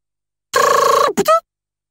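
A car phone rings in the JoJo's Bizarre Adventure PS2 game: one loud electronic trill lasting about half a second, then a brief second chirp, alone against silence.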